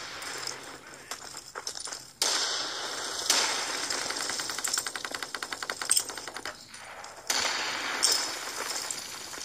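Rapid gunfire in the video game Socom HD as boards are shot out, with dense clattering bursts and a long quick-fire run of sharp cracks, loud and close.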